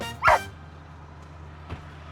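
A dog on a porch gives a single short, fairly loud bark near the start, then only a faint yip later over a low steady hum.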